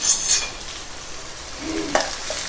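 Onions sautéing with fennel seeds in a hot pan give a soft continuous sizzle, with a few clinks and scrapes of a spoon stirring nearby.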